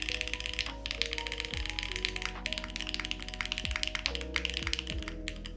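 Rapid typing on a custom mechanical keyboard build with silver keycaps, a dense run of crisp clacks over a low steady hum and tonal background music.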